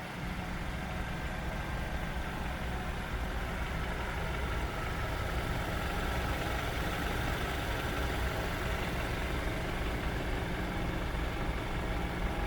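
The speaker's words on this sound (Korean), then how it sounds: "가솔린인데 엔진 소리가 시끄럽습니다" A Mercedes-Benz C200 (W205) gasoline engine, heard from outside the car, idles steadily with a low, rumbling, diesel-like drone that holds an even level throughout, with no voices.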